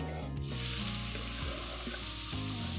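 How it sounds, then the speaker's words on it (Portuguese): Onion sautés in the same pan that held grilled shrimp for a shrimp risotto, a steady close sizzle and crackle of frying with occasional stirring scrapes, no voices. "Agora vamos entrar na mesma panela, a nossa cebola."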